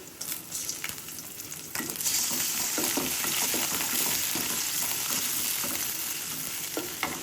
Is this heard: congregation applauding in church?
no